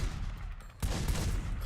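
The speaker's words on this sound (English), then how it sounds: "Shotgun." A shotgun fires in The Godfather video game, a single sharp loud blast partway through over a dense background of game noise.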